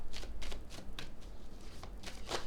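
Tarot cards are shuffled in quick, crisp riffling bursts, about a handful of rapid flicks in close succession, near and fairly soft.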